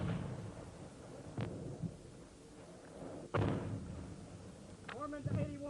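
Enemy mortar rounds exploding during the Vietnam War, heard as several distant heavy thumps and sharp blasts spaced a few seconds apart over a dark rumbling field background.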